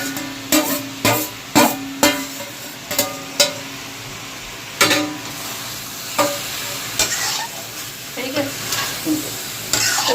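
Brinjal is sautéed in a pan, with a spatula scraping and knocking against the pan in irregular close strikes over a continuous low sizzle.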